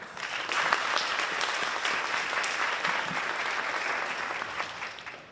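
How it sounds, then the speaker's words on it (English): Guests at a high school seniors' academic banquet give a warm round of applause, a full, continuous wash of clapping from a sizable crowd that holds steady and then tapers off at the end. "So we'll give her a round of applause."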